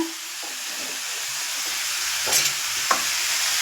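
Chopped eggplant and bottle gourd hit a pan of sizzling onions, a steady frying hiss with a couple of brief stirring clatters toward the end, close and moderately loud, no talking.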